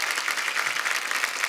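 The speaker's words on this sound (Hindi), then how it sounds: "जोरदार तालियां पूरी स्टार कास्ट के लिए।" Steady applause from a TV comedy show studio audience, a dense wash of clapping that holds at an even level throughout with no voices standing out.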